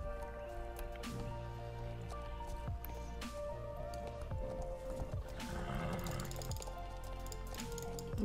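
In the horse-riding video game Jorvik Rangers, a horse whinnies over soft hoofbeats and ambient game music, moderately loud, with no clear talking.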